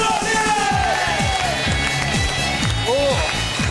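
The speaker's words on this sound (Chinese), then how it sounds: "来，掌声有请" A studio audience at a dating show claps in a steady, rhythmic beat with cheering mixed in, loud and continuous throughout.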